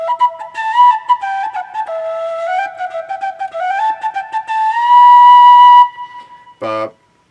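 A tin whistle plays a bright melody of separately tongued notes, ending on a long held tone and then a short, sharp final note.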